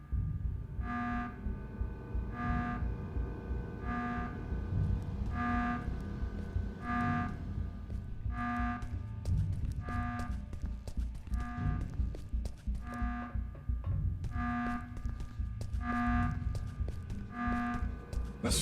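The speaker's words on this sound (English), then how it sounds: "The sound of that alarm echoing through these hallways." An alarm in the video game Go Home Annie echoes through hallways, sounding as a steady series of evenly spaced electronic tone pulses about every one and a half seconds over a low rumbling background.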